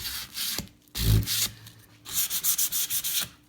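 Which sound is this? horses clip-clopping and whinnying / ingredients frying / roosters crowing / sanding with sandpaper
sanding with sandpaper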